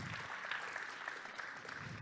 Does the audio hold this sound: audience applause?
yes